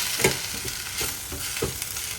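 Biryani masala sizzles in a pot while a spoon stirs it, scraping the bottom in a few distinct strokes over a constant frying hiss, close and moderately loud with no voices.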